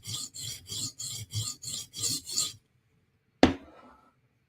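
A steel knife edge dragged repeatedly across a diamond sharpening stone to raise a burr, eight rhythmic close rasping strokes, then a pause and one sharp clack as the blade or stone is set down.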